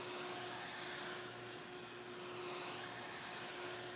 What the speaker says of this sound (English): So I'm using the fan to speed the drying process.